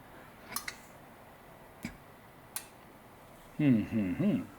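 A few sharp, faint clicks from a small suction motor under test, spaced irregularly in a quiet room, followed by a brief voiced speech sound.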